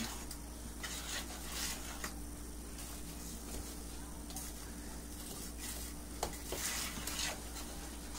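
A spoon stirs no-bake cookie mixture in a pot on the stove, making a soft, continuous scraping and bubbling texture with a few light clicks, quiet and close, with no talking.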